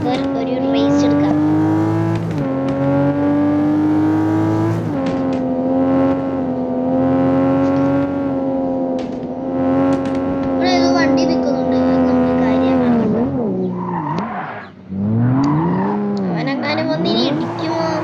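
A race car engine in a video game race drones loudly and steadily, with the pitch shifting as it revs and changes gear, and it briefly dips near the end.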